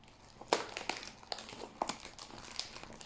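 A hero card game booster pack wrapper being opened up close, with sharp crinkling bursts and small crackles at an irregular pace over a quiet background, no speech.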